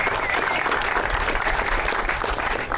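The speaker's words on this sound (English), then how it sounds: "And let's give him a round of applause." An audience at an outdoor marker unveiling ceremony in Duluth claps together in a dense, steady burst of applause, loud and close throughout.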